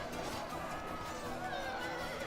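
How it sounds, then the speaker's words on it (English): Horse whinny from a dying horse in the Medieval II video game, a brief strained neigh heard amid the constant din of a battle crowd, with no clear footfalls or talk standing out. "I thought I heard the whinny of a horse dying."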